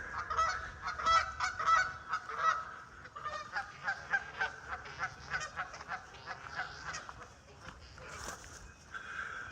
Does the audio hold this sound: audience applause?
no